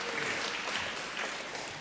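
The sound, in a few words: audience applause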